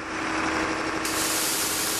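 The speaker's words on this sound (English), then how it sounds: "so now we're going on engine" A steady, loud rushing drone from a 70-meter sailing ship running on its engine at the Hanse Sail regatta in Rostock, a continuous hiss of engine and water with no breaks.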